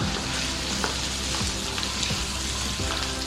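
Green chillies and ginger-garlic paste frying in hot oil, a dense continuous sizzle close up with occasional soft stirring scrapes over it.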